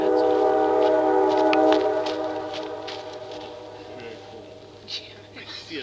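A Nathan Airchime K5LA train horn sounds a loud, sustained multi-note chord during a train run-by. It holds steadily for about two seconds and then fades as the train moves away, followed by a few faint knocks.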